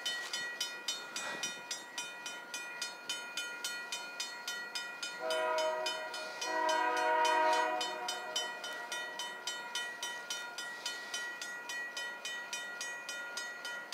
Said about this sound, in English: Got another Union Pacific freight train coming.